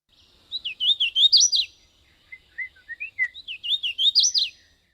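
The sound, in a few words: hooded warbler song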